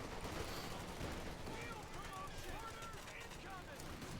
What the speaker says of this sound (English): Cavalry rifle there, blasting away.